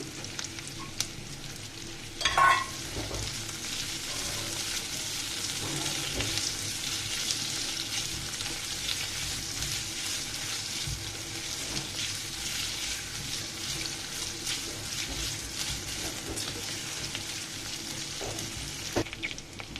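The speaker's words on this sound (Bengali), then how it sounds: "আলুগুলোকে আমি ভেজে নিচ্ছি" Potatoes frying in oil produce a continuous soft sizzle, close and even throughout, with a brief clatter of stirring near the start and no talk.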